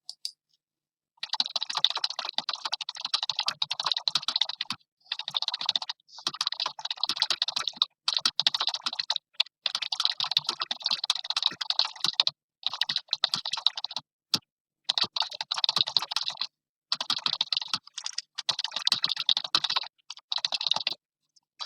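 Text typed on a computer keyboard in quick bursts of crisp, close key clicks, broken by short pauses, with no voices.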